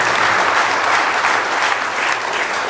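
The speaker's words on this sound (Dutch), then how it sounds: "Graag een applaus." Steady applause from an evening event audience at a business talk, dense even clapping filling the room for a few seconds at moderate loudness with no voices over it.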